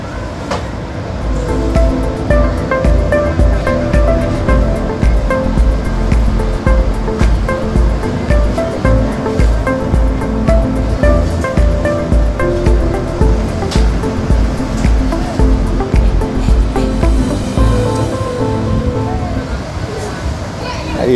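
Ocean waves wash steadily around the natural pools of Praia do Manguinho, a loud, continuous surf roar with a rhythmic churning texture throughout.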